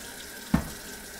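Steady rush of tap water running into a container, with a brief louder splash partway through.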